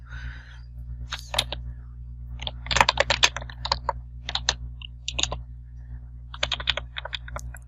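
Keys clatter on a computer keyboard in uneven bursts of quick clicks and pauses, close and clear over a low steady hum.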